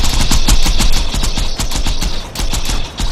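Dual guns firing in the video game Borderlands 2, a loud, rapid automatic burst of shots in quick succession, barely pausing through the stretch.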